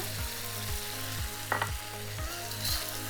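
Beef and spring onion stir-fry in a hot pan with a dense, continuous sizzle, a steady rhythmic mechanical thump underneath and a brief scrape of stirring midway.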